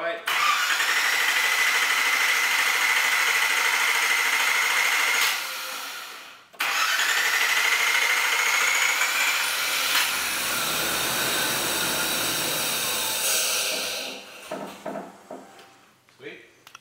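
A Nissan President car engine starts for the first time after work on its fuel system, then idles loudly and close up with a steady high whine, stalls briefly, restarts and runs before fading out near the end.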